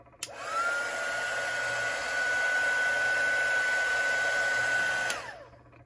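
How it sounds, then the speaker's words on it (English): Heat gun blowing on epoxy coating an alcohol ink tumbler, a loud, steady whirring roar with a constant high whine that starts abruptly, holds for about five seconds, then cuts off and winds down. "So I'm just going to hit this with heat, so it's going to be really obnoxious for a minute."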